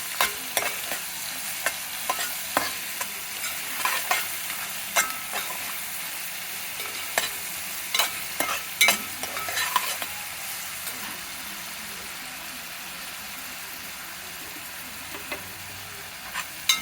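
Spices frying in oil in a pan for malai kofta curry, with a steady close sizzle under repeated rhythmic spoon scrapes and taps as the mixture is stirred, no talking.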